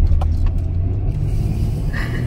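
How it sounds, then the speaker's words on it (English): A single car passes slowly along an empty winter road, a steady low engine rumble and tyre noise holding throughout at moderate distance. "Once this one car goes by, because there's like literally nobody out here but this one car that's going really slowly"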